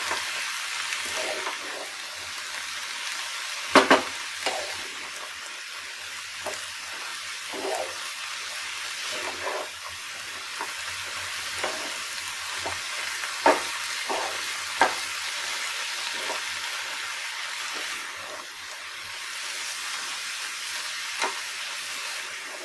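A mixture is stirred in a kadhai (wok) while making a cheese pizza without an oven. A steady hissing sizzle runs underneath, broken by repeated scraping and clanking strokes of the spoon against the metal, with no speech.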